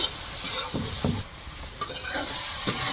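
Spice paste with chilli powder is stir-fried in a pan with a little water, a close sizzle broken by repeated scraping stirs of a spatula, loud and without talk.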